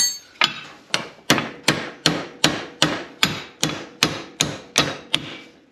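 A hammer strikes a bolt to drive it out of a wheel hub on a Polaris General 1000 side-by-side, with about twelve sharp metallic blows in a steady, even rhythm, close and loud.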